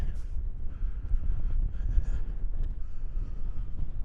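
Steady low rumble of cold wind buffeting a microphone near a reservoir, continuous and fairly loud throughout, with no clear talk over it.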